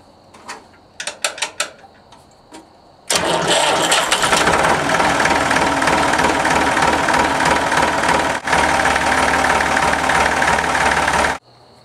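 Massey Ferguson 245 tractor diesel engine: a few faint clicks, then the engine fires and settles into a loud, steady, knocking idle that runs for several seconds before cutting off abruptly.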